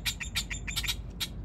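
Birds call in quick, repeated high chirps, several sharp bursts in a rapid, agitated rhythm, close and fairly loud over a low background rumble.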